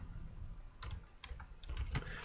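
Computer keyboard keys tapped while entering lyrics into music notation software, a few scattered clicks and short bursts over a low steady background hum.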